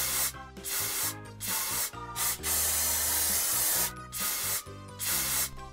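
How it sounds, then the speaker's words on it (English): Bursts of hissing aerosol insect spray aimed at ants, several long sprays separated by short gaps, close and fairly loud, with no talking. "spray the ants so they don't come out into the house"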